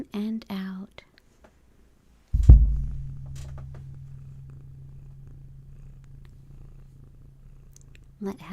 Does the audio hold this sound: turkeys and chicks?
no